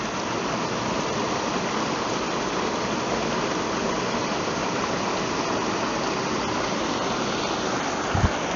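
A waterfall's rushing water roars steadily and close, a dense unbroken wash of noise that holds at the same loudness throughout with no voices.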